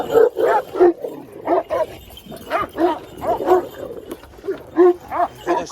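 Several dogs bark, yelp and snarl in rapid bursts, close and loud, like a scuffle between them.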